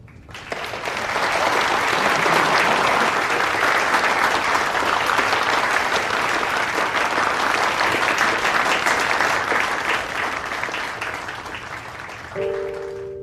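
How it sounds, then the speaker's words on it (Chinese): A crowd applauds loudly and continuously at a gathering, the clapping swelling quickly and holding steady for many seconds before fading near the end. "大家可以鼓掌，"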